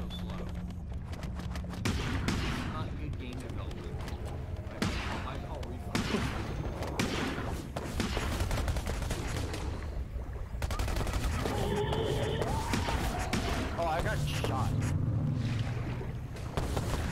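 A coastal gun fires in the underwater shark game Depth, a series of heavy booms and blasts layered over a dense underwater rumble, while players talk over the action.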